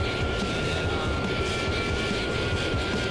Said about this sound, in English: We're just blazing through the fuel. We're in full afterburner.